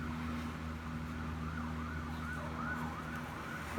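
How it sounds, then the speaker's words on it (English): Emergency vehicle sirens near a hospital, wailing faintly in the distance with rising and falling sweeps, mixed with a steady low hum and traffic rumble, continuous and quiet throughout. "I live near a hospital, so there's a lot of sirens"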